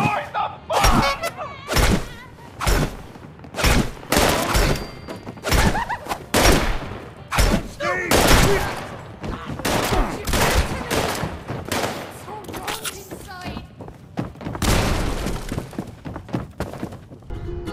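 Heavy gunfire in the video game Fallout 76, a dense, loud barrage of rapid shots and thuds running almost nonstop with brief dips.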